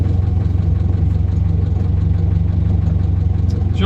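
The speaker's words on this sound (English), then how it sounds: "She idles quite well." 1967 Morris Minor engine idling steadily up close, a low, even mechanical rumble with a regular pulsing beat and no revving, continuous throughout.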